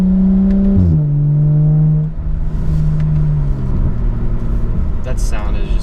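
A 2011 BMW 135i's 6-cylinder engine, 350 wheel horsepower, revs loudly, then drops into a steady throaty drone that swells again near the end.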